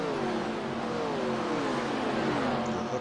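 NASCAR race cars in the iRacing video game, several engines droning at high revs in a continuous overlapping roar with pitch slowly shifting as cars run together, loud and steady.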